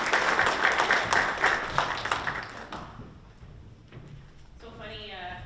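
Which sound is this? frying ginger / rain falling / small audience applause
small audience applause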